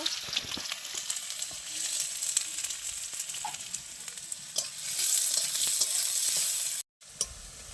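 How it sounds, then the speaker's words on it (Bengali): Chopped onions fry in oil left from cooking koftas, a close steady sizzle with crackling pops and spatula scrapes, swelling louder partway through before a brief cut, no voices. "পেঁয়াজটাকে লাল লাল করে ভেজে নেব।"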